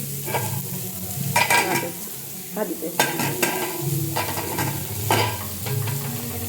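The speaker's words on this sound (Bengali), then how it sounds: "আর এই যে ব্রকলি এখানে অর্ধেক অলরেডি ভাজা চাপিয়ে দিয়েছে, ওখানে ভাজা হচ্ছে।" Broccoli frying in a pan in a home kitchen, with a soft sizzle under repeated clattering stirs and utensil knocks that come in irregular bursts at moderate loudness.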